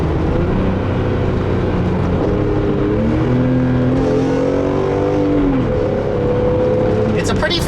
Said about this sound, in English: It's a pretty fantastic sounding straight 6 as well